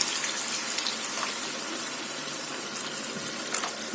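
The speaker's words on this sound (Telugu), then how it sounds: "వాటర్ వేసుకుందాం" Water pours in a steady splashing stream into a cooking pan of tomato-onion curry for a few seconds, close and fairly loud.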